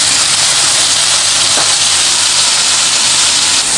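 Beef seekh kebabs frying in a pan give off a loud, steady, close sizzle that holds an unbroken hiss from start to finish.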